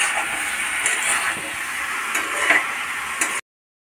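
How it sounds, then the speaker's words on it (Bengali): Cabbage frying in a pan with ginger paste and a little garlic paste: a steady, close sizzle with occasional stirring clicks and scrapes, then abrupt silence at the end. "আমি ওটা ঢেকে 10 মিনিট লাল করে ভেজে নেব।"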